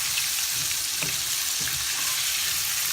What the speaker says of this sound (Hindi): ये देखिए हम फ्राई कर रहे हैं